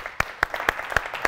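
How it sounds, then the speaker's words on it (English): An audience claps in a thin, uneven rhythm for about a second at a talk honouring a company founder, with individual claps standing out rather than a full roar. "can we have a round of applause please for Nathan Chan, our founder."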